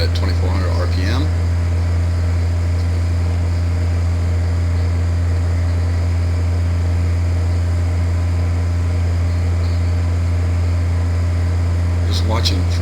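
Cessna 172 piston engine at 2,400 RPM heard from inside the cockpit on approach, a loud continuous low droning hum with steady harmonics, close and unbroken throughout.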